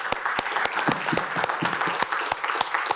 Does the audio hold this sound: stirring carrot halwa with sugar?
no